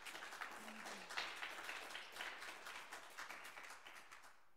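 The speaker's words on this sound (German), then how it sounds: "Ein Applaus für Kinga Todt." An audience at a literary performance event gives a short round of applause for an author, quiet and somewhat distant, with distinct claps, tapering off near the end.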